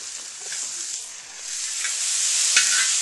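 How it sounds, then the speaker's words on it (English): Potatoes fry in a disco pan outdoors, sizzling with a steady bright hiss while a utensil stirs and scrapes through them, growing slightly louder toward the end. "The key here is to keep stirring it so it doesn't get too dark on one side."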